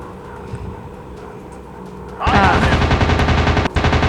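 Warplane machine guns rattle in a World War II air-combat video game pitting British against German planes, breaking out suddenly into a loud, dense, rapid burst of fire with one brief gap near the end.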